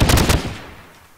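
Rapid burst of Flans mod gunfire in Minecraft, three or four loud close shots in quick succession, then a fading tail.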